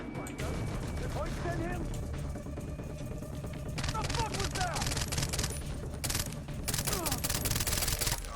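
Turret gunfire in the video game Far Cry 3 rattles in dense, rapid bursts through the whole stretch, loud and continuous, mixed with other game sounds and a voice reacting.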